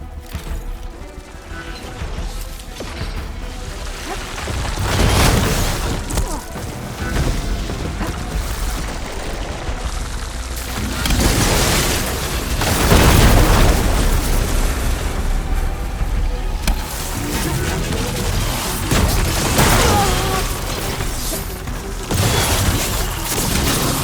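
Ballista shots and explosions fill a battle in the video game Horizon Forbidden West: a dense, loud stretch of heavy booms and crashing blasts rolls on without pause, with no talking.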